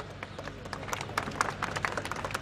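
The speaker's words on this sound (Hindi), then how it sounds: "तालियां थोड़ी कम बजी" Scattered, thin applause from a crowd at an outdoor political rally, uneven claps rising and falling over a low background murmur.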